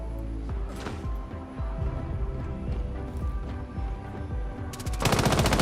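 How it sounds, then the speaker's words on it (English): Rapid gunfire trades back and forth in a Rainbow Six Siege match, scattered single shots building to a dense, loud burst of automatic fire at the end. "Shots traded in between the two of them."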